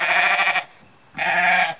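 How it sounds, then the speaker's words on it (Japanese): A goat bleats twice in quick succession, two loud, wavering nasal calls separated by a short pause, close to the listener with no other sound. "多分ヤギの音が入ってる"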